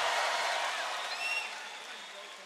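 Concert crowd at The Pop Out show cheering and applauding after the set, a broad, steady roar of distant voices and claps that slowly fades, with a few whistles.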